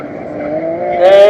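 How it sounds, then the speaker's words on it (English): A Mazda Speed 3 race car drives past on a racing circuit, its engine note loud and close, climbing steadily in pitch and swelling in volume as it nears. "Here comes Dave Eflin in his Mazda Speed 3."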